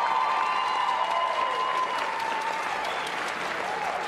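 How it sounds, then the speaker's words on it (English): Crowd applause and cheering for airmen at Schriever Air Force Base, a loud, sustained roar of clapping from a large audience, with whistles and voices mixed in throughout. "Hey, Schriever, let's hear it for your airmen."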